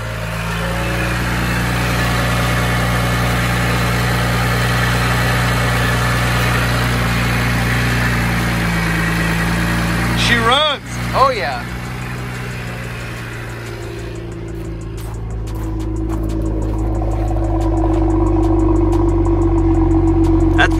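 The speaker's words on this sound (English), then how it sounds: "Let's give it a startup for a couple seconds." A stock BMW 1M from a salvage auction, bought wrecked with hidden damage, cranks and fires, its engine catching with a brief surge before settling into a steady, deep, close idle that holds loud and even for several seconds.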